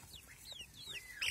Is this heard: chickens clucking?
yes